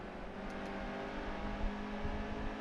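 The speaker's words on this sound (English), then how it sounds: "The engine sounds are decent." A race car engine in the NASCAR Heat 2 video game drones and revs steadily at moderate volume, a continuous mechanical whine with slight surges, with no talking over it.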